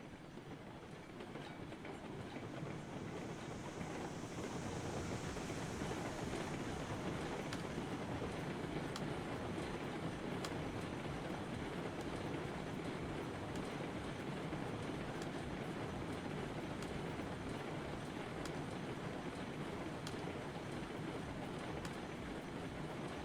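Carriages of a train in the Railroads Online game run at full speed, giving a steady, loud rolling rumble with clickety-clack wheel beats throughout and no talk over it.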